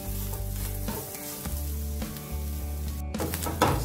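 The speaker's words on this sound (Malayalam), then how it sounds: "ചെറുതായിട്ട് ബ്രൗൺ കളർ ആവുന്നത് വരെ നമുക്കിതൊന്ന് വറുക്കാം." Whole spices such as cinnamon and cloves fry in hot oil until brown for a Kerala-style roasted-coconut chicken curry. A loud, continuous close sizzle runs throughout, with stirring and clinking of the pan.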